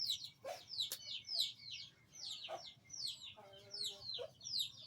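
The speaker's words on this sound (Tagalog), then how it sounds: "Pakain ako ng alaga kong manok ay pato." Pet chickens clucking close by in a quiet yard, a series of short repeated clucks and chirpy calls spaced irregularly, fairly faint overall, with a brief low tonal call near the end.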